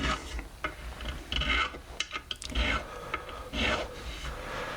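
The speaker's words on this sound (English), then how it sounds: "you can use these files too to round over the edges like this in this motion" A metal file rasping over the edges of the frets on an SG-style electric guitar kit neck, close-up in repeated short rubbing strokes with brief pauses between them.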